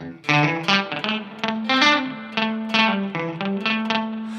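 Electric guitar played through a Walrus Fundamental Reverb and Delay pedal in digital mode: a quick run of plucked, slightly distorted notes, each trailing into shimmering echoes and reverb, loud and close.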